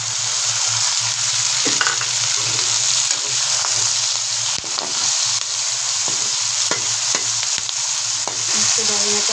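Arbi curry cooks with crushed garlic, tomato and green chili in a pan, sizzling and crackling steadily up close while a spoon stirs and scrapes at irregular moments, with no talk.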